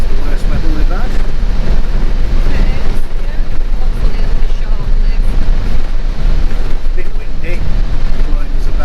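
Strong gusts from Storm Gloria buffet a car on the road near Perpignan, a loud, constant roaring wind rumble battering the microphone throughout, with people talking underneath.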